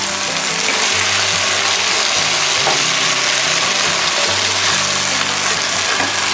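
Wild turkey in mojo marinade with onions sizzles loudly and steadily in a Dutch oven, a close, continuous hiss of frying with no voices.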